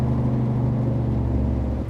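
International LT truck engine heard from inside the cab in American Truck Simulator, a steady low droning hum with a smooth tonal rumble, continuous and even throughout.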